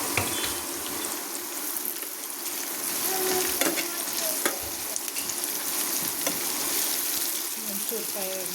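Churmuri (spiced puffed rice) frying in oil in a pan, giving a steady, close sizzle with occasional stirring scrapes and light clatter throughout, no voices.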